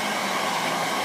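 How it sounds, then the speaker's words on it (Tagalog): Hair dryer blowing steadily on a watercolor painting, a continuous close, even whoosh of air with no voices. "when you use your blower"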